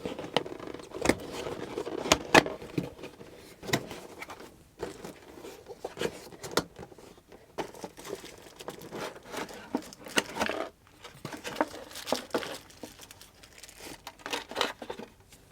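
Close crinkling and rustling of packaging as a SMOON 120P game stick box is opened, with irregular crackles, small tears and handling clicks scattered over a continuous soft rustle, with no talking.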